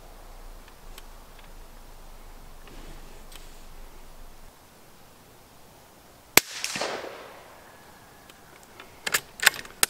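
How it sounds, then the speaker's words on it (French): A .22 LR rifle fitted with a suppressor fires one sharp, dulled crack after a quiet stretch, followed by a brief rustle and a few clicks of handling. "je tire dans les mêmes conditions que les autres fois. C'est-à-dire que j'ai mis, vous avez vu, le silencieux devant, le réducteur de son"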